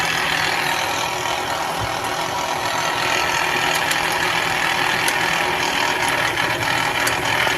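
A telescope tracking motor runs steadily after a relay switches it on, driven by a two-second PWM signal from an Arduino Uno, giving a continuous mid-pitched engine-like hum with faint ticks, loud and close throughout.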